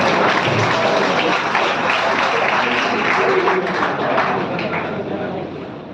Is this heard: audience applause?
yes